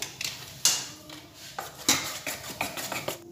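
A spoon clinks against a bowl while idli batter with Eno fruit salt is stirred gently, giving a series of light, close metallic taps at an uneven rhythm with no talk.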